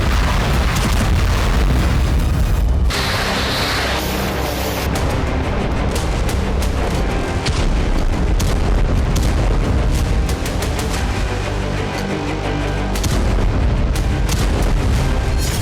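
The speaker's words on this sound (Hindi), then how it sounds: "कीव में कई धमाकों की आवाज सुनी गई।" Heavy booming explosions in Kyiv during a drone attack met by air defense, loud and repeated, with deep rumbling blasts and sharp bursts over a constant roar.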